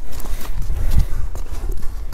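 Hooves of running horses in Toktogul, Kyrgyzstan, thud and clip-clop in a loose, uneven rhythm, close and fairly loud, with a few heavier strikes in the middle and faint background noise.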